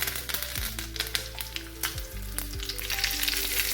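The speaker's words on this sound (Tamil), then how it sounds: "கொஞ்சமாக நல்லெண்ணெய் விட்டுட்டு கடுகு, உளுத்தம் பருப்பு இது மட்டும் போட்டுட்டு கடுகு பொரிஞ்சதும் கருவேப்பிலை கொட்டிட்டோம்னா சட்னி ரெடி" Mustard seeds and urad dal sizzle in sesame oil for a red chutney tempering, a continuous close crackle with faint popping and music underneath.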